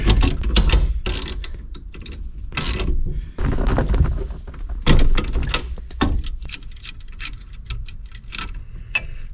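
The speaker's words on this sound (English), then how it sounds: "So next thing we do is remove this nut." Ratcheting metallic clicks and clanks as a 3/4 inch nut is worked loose from a steering wheel shaft, in bursts of quick repetitive ticking with short pauses, close and fairly loud, with no talking.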